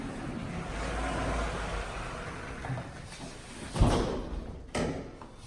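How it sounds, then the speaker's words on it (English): Bifold doors glide along their track and shut, a scraping rolling rumble followed by two sharp knocks as the panels close, with no voices. "But as we close these doors,"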